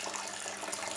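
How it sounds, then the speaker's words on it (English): Water from an alcohol reflux still flows in a soft, continuous hiss and trickle, faint and steady, with no voices present. "This is the water that's getting separated from the main alcohol."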